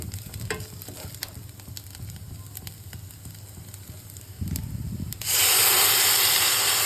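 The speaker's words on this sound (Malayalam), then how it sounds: "ഉള്ളി നന്നായിട്ട് വഴണ്ട് വന്നാൽ പുളി പിഴിഞ്ഞ് അരിച്ചെടുത്ത വെള്ളം നമുക്ക് ഒഴിച്ചു കൊടുക്കാം" Strained tamarind water poured into a pan of sautéed onions for Kerala ulli theeyal, a low stirring sizzle that swells into a loud, steady hiss of frying liquid.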